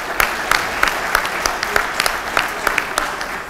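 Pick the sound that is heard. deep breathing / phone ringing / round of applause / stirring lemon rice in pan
round of applause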